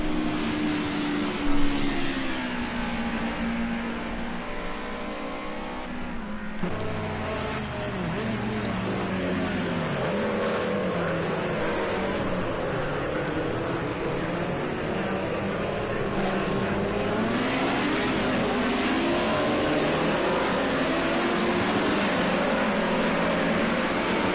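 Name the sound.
touring race cars accelerating up the hill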